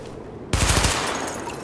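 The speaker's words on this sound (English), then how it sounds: "Open fire at the highlighted targets." Gunfire from a weapon test at highlighted targets in the video game The Division: after a short quiet lead-in, a sudden loud burst of rapid automatic shots rattles out for about half a second, then a dense echoing tail of reverberating fire.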